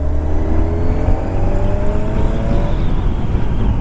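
A Kawasaki Ninja 1000SX engine drones loud and close with a smooth rising pitch, mixed with heavy wind rush. No talking.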